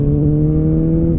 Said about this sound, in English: that lovely little noise right back there is an SE Project oval exhaust, carbon on carbon